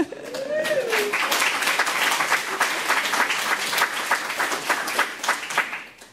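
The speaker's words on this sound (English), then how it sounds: "Let's give a mini applause for this." An audience at a book launch applauds, a full, even patter of many hands clapping, close and sustained for about six seconds, with a brief whooping voice at the start and a fade at the end.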